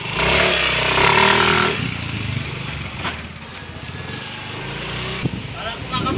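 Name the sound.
Yamaha Mio 125 scooter engine revving during test drive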